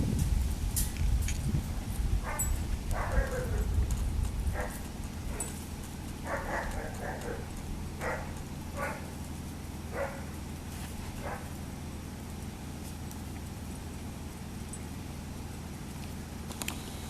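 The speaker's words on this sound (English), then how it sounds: "just listen to this annoying barking" Pretzel, a small deaf puppy, barks repeatedly in a series of sharp, fairly close yaps spread over several seconds, with a rustling, blowing outdoor background that eases after the first few seconds.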